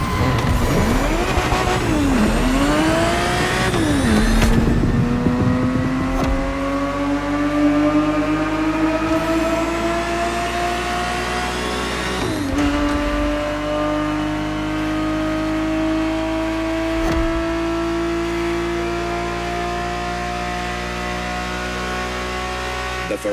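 Ferrari 365 GTB4 engine in The Crew Motorfest, loud and close, revving up through a few quick rises and drops before settling into a long steady high-pitched drone, with brief shifts marking gear changes.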